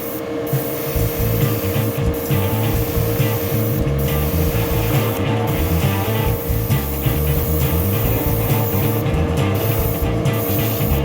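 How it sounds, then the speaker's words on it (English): Airbrush spraying decanned Duplicolor paint, producing a loud, steady close-up hiss of air and spray that runs throughout with brief dips, no voices. "we're going to try to airbrush the Duplicolor decanned into the airbrush"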